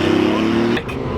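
A BMW i8 safety car on a hot lap around a slightly wet circuit, its engine droning steadily close up before easing off abruptly near the end.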